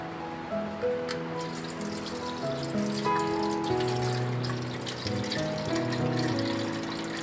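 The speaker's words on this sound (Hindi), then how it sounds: "अब दोस्तों इसमें पानी डालते हैं।" Water poured into the tank of a home humidifier, a steady trickling stream that runs throughout, close and fairly loud, with no talk over it.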